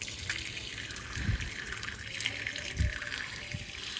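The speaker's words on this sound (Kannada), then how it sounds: "ಇದಕ್ಕೆ ಆ ರೀತಿ ಆದಾಗ ಇಲ್ಲಿ ನೀರು ಬಿಡಬೇಕಂತೆ." A household tap is left running to clear trapped air from the line, giving a steady hiss of flowing water with a few faint splashes and gurgles, no talk.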